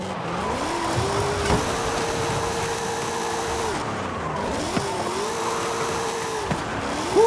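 A car drifting in Forza Horizon 5, driven on a steering wheel: a steady engine drone with long, wavering tire squeals that rise and hold through two sustained slides, plus a few brief knocks, with no speech.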